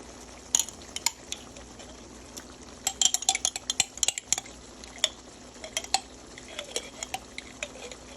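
A metal spoon stirs crushed garlic into a seafood boil sauce in a pan, giving a steady run of scraping clinks and taps against the pan over a faint sizzling bed, with no talk.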